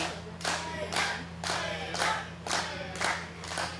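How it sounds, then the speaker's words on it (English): Crowd at a women's wrestling match between Taeler Hendrix and Candice LeRae, clapping and cheering in steady rhythmic surges, about six evenly spaced bursts over a constant low hum. "Those that are mesmerized and under her spell are cheering for Taeler, and everybody else is cheering for Candice."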